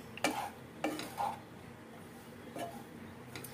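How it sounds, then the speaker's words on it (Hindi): Grated coconut being stirred and roasted in a pan over a low flame, heard as a few soft scraping strokes of a spoon against the pan, faint and spaced out in a quiet kitchen. "और इसमें डाल देंगे नारियल। फ्लेम को लो रखेंगे और इसको 3-4 मिनट के लिए भून लेंगे।"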